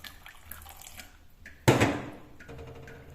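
Tea with milk poured through a strainer into a cup: soft drips first, then a sudden splashing pour that trickles away, close and fairly loud.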